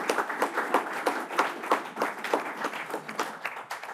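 A conference audience gives warm applause for the organisers and speakers at a talk on sport and job placement. Brisk, close clapping keeps a steady rhythm throughout, with no speech over it.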